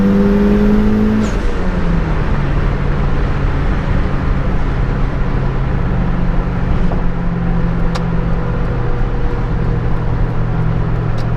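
A turbocharged Mazda Miata accelerates hard in 4th gear while building boost, its engine droning loud and steady with a rising pitch as it pulls alongside and passes a GMC Canyon pickup, with road and wind roar underneath throughout.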